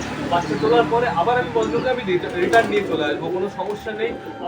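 Pet pigeons, including a Malayali pigeon, coo in low, rolling murmurs after feeding. The cooing is nearby and mixed with a continuous hum of background voices.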